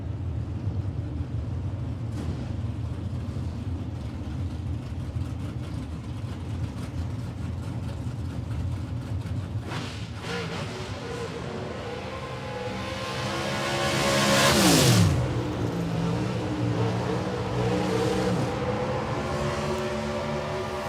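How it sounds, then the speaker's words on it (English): NHRA Pro Stock drag cars lining up four-wide for a qualifying run at zMAX Dragway, a steady low engine rumble that swells into a loud rising roar near the middle before settling back. "That's our final Pro Stock quad. Pulls around the corner"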